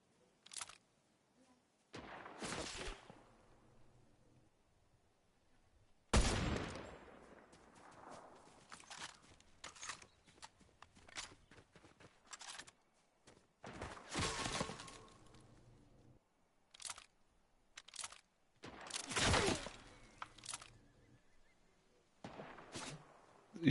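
Gunfire in the video game Fortnite: scattered sharp shots and short bursts, some loud and close and others faint, separated by quiet gaps with footsteps and light game noise.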